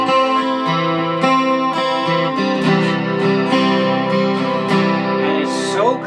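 Electric guitar played through a Boss GT-1 multi-effects unit with the chorus effect on, giving clean, shimmering sustained chords and notes that ring out steadily and loudly with no voices over them.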